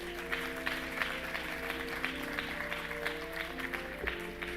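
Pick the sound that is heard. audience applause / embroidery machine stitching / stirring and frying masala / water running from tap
audience applause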